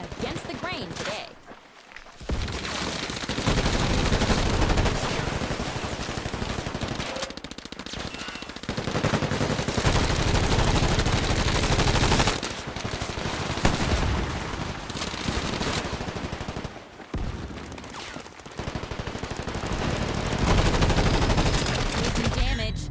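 Dense automatic gunfire in the video game Combat Champions on the Meadow Pastures map, rattling nearly nonstop and loud, with only brief pauses between bursts.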